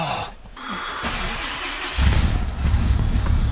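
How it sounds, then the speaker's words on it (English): Dually pickup truck engine starting in the cold, a short cranking whir that catches at about two seconds and settles into a loud, steady rumble close by. "I'm gonna see if I can get this dually started."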